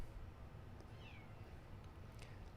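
A pet cat gives a single short, faint meow on a cat camera, heard over a steady low background hiss.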